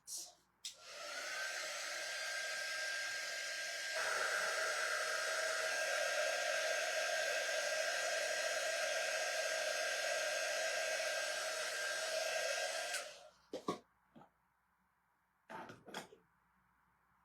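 A hair dryer blows a loud, continuous, close whoosh for about twelve seconds to dry paint on a painted spring truck craft cutout. Its tone shifts partway through, then it cuts off, followed by a couple of coughs or throat clearings.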